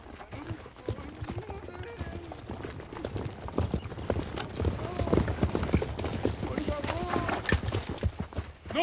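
Horses' hooves clip-clop in uneven rhythm on hard ground while voices talk over them, the hoofbeats growing louder partway through.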